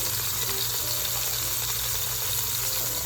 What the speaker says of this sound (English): Peppers and onions are cooking currently.